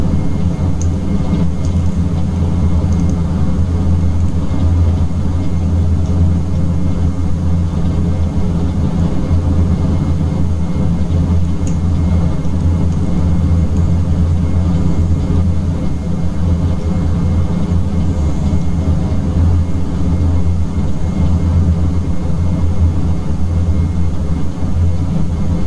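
Constant low turboprop drone and airflow rumble inside the cabin of a Dash 8 Q400 in flight, steady and unbroken throughout with no talk.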